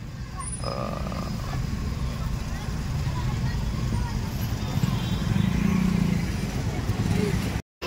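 Heavy road traffic outside a school at dismissal and arrival time, a steady dense rumble of passing vehicles close by, with voices talking over it throughout.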